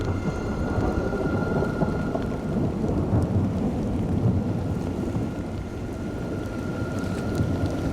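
Heavy rain pours over fire-burned hills in the Bouches-du-Rhône, a steady dense wash of falling water with low rumbling underneath, constant and close with no voices.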